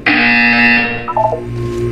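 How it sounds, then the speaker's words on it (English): A loud, harsh electronic buzzer from the video game Portal 2 blares for about a second, then fades into a lower humming tone. "You will hear a buzzer."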